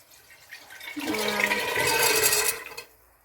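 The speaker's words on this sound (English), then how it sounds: "Now the water that you soak them in, you want to pop that in too" Chickpeas and their soaking water poured into a pan, a brief gushing splash that swells quickly, holds steady for a couple of seconds, then stops, heard alone and fairly close.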